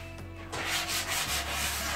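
A dining table surface is sanded by hand in close, rhythmic rubbing strokes, scratchy and steady over a couple of seconds.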